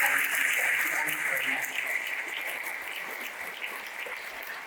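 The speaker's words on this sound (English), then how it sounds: "I'd like to give the panelists a big round of applause." Audience applause for panelists at a lab-grown diamond industry symposium forms a dense, steady patter of clapping that slowly tapers toward the end.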